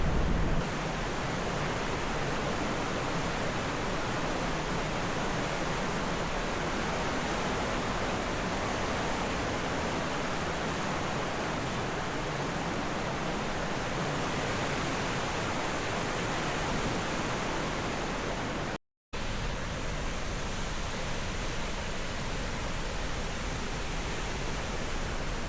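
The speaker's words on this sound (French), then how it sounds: "Les chutes inférieures et les chutes supérieures." The lower falls of a waterfall in Banff National Park produce a loud, dense, steady roar of rushing water that holds constant throughout, broken only by a split-second dropout.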